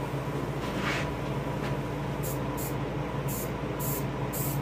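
An airbrush sprays paint onto a taxidermy largemouth bass, making a steady close hiss with several short bursts of higher spray near the end.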